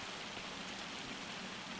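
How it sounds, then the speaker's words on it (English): Steady rainfall in Farming Simulator 25, an even, unbroken hiss of drops pattering on surfaces at a moderate level with no voices over it. "of course it's gonna rain."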